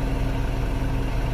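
A Mitsubishi Canter Euro 4 diesel truck engine idles with one injector switched off, a steady, loud, close low rumble with an uneven, lumpy beat and no voices.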